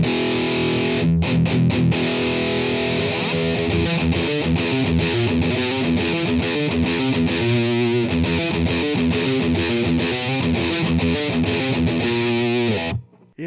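Heavily distorted electric guitar plays through a 1972 Fender Super Reverb amp, a dense chugging metal riff with rhythmic palm-muted stops, loud and continuous before cutting off abruptly at the end.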